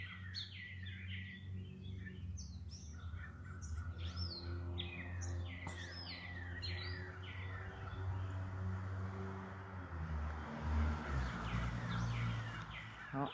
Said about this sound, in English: I want you guys to listen to the birds for a second.